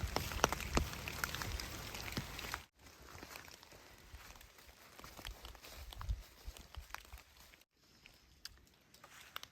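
Rain falling during a day hike, scattered close drops pattering on surfaces with irregular rhythm, interrupted by two brief silent gaps.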